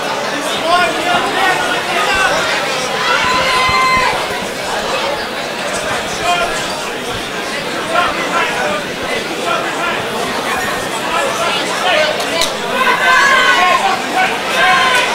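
Crowd at an amateur fight night at the Alona Hotel, a steady wash of shouting and murmuring voices that carries on throughout, with a few louder cheering bursts standing out near the end.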